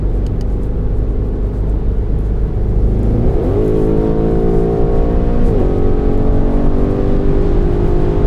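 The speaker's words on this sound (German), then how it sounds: "wir hören eigentlich nur das Auspuffgeräusch von hinten, so ein bisschen turbular nach vorne" The MTM Audi RSQ8 SUV, tuned to around 1001 PS and cruising near 200 km/h, gives a steady deep exhaust drone and rumble from behind, with a rising tone partway through as the engine note shifts.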